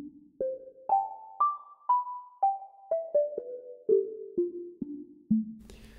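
Phase Plant software synth preset built from an analog oscillator plus a little noise, playing a clean plucked melody of about a dozen distinct notes rising then stepping down, each with a soft decay, alone and fairly quiet.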